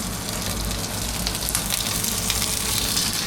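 Fish burger patties frying in a pan at home in the evening, giving a steady, dense sizzle that crackles continuously and evenly throughout with no talking over it.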